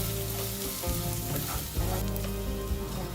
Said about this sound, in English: Then saute on a medium flame until the onion turns translucent.